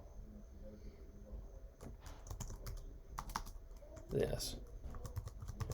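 Typing on a computer keyboard, close and quiet, with rapid irregular key clicks and a brief louder thump, while someone speaks over it.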